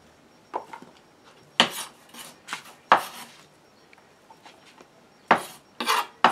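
A knife cuts a red onion on a board for Italian pasta salad, making sharp, irregular chopping taps and a few louder strikes close by, with pauses between them and no talking.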